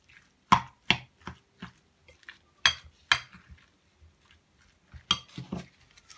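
A spoon mixes a tuna, hake and tomato sauce filling in a bowl, making sharp intermittent clinks and short scrapes in an irregular rhythm, close and fairly loud, with no talking.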